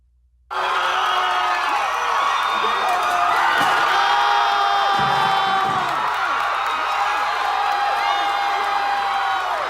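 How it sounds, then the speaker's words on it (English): Students toppling the Confederate Silent Sam statue on a university campus erupt into loud crowd cheering, whoops and shouts that start abruptly and sustain throughout, a dense roar of many voices outdoors. "people are celebrating and cheering and kicking the statue and stomping on the statue"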